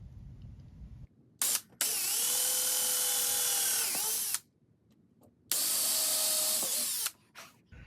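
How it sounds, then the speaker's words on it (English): A power drill bores pilot holes in wood in two long whining bursts separated by silence, plus brief short blips of the motor, close and clear. "I'll go ahead and drill pilot holes on each of those so there's no splitting of wood."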